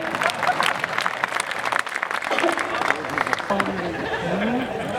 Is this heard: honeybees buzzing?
no